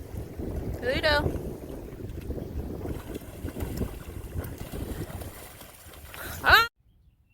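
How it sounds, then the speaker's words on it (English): Strong wind blowing outdoors near water, a steady low rumbling buffet against the microphone throughout, with brief vocal sounds rising over it before it cuts to near silence. "it is windy as heck outside"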